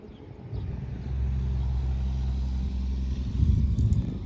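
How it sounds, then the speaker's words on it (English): A dump truck and a small backhoe come up a road, a low engine rumble that swells within the first second and then holds steady, growing louder toward the end as the machines approach. "I just heard the dump truck and the little backhoe coming up the road"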